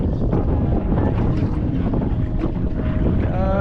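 An outboard boat motor runs steadily while strong wind roars across the microphone and water sloshes around the hull, a dense continuous rush with no voices.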